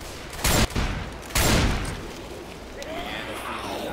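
Two loud, sharp gunshots from Left 4 Dead 2, about a second apart, each ringing briefly before fading into low game background noise.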